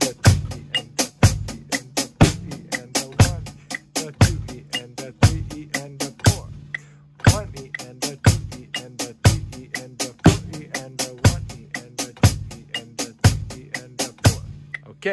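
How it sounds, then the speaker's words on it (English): A drum kit plays a steady repeating groove with a hard open hi-hat accent on beat four, crisp kick and snare hits ringing close and loud with no talking. "you're gonna open your hi-hat on beat four"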